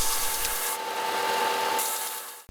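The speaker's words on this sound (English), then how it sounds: "I start off by removing the bulk of the excess material on the bench sander" A bench sander grinds excess walnut away from a gold wedding band wrapped in wood, giving a steady, close abrasive rasp that holds for about two seconds and then cuts off.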